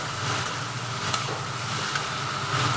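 A curry of potato, ridge gourd and prawns sautés in a hot pan, hissing and sizzling steadily, with occasional stirring scrapes and small pops close by and no talk.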